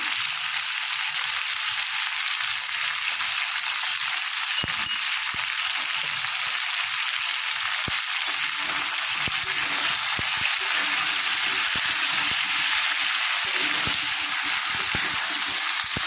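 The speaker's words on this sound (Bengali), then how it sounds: "আলু আর গাঁটি কচু একটু হালকা করে আমি ভেজে নেব" Potatoes and taro root frying lightly in oil, a loud, dense, continuous sizzle heard up close with occasional faint knocks beneath.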